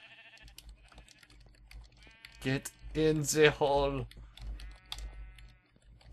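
Minecraft sheep bleating, two drawn-out wavering bleats in the middle of the clip, with a player talking around them and light keyboard clicks in the background.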